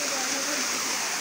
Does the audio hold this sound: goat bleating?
no